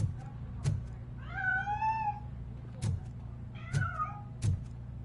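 A cat in the video game Robocop: Rogue City gives two clear, rising and falling meows, spaced apart, with soft thuds and low background hum around them.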